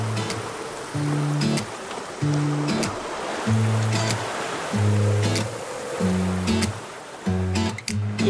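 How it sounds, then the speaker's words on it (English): Rough open-ocean waves surge around a sailboat far offshore, a steady broadband wash with repeated louder swells rising and falling, accompanied by recurring low tonal hums and creaks from the boat. "So it keeps up with the wild waves that are out here."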